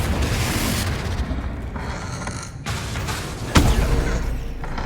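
A Confringo fire-blast spell explodes in Hogwarts Legacy. Booming blasts play among whooshing spell effects, including one sharp, loud explosive hit near the end, with no speech.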